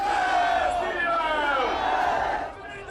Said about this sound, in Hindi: भीड़ जय श्री राम के नारे लगा रही थी।